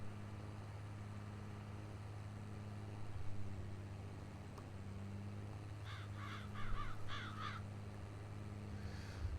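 Crows caw in a quick series of harsh calls on a farm field being prepared for potatoes, heard over the steady low drone of large John Deere tractors working nearby; no talking.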